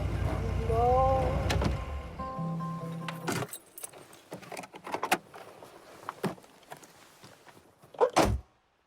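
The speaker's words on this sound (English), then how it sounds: "I'll close my door." A door closes with a solid thunk midway, preceded by vehicle-like mechanical whirring and a low tone, and followed by scattered faint knocks and clicks, ending in a sharp close impact.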